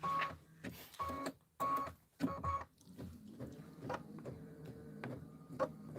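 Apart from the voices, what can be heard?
embroidery machine stitching out a Kimberbell design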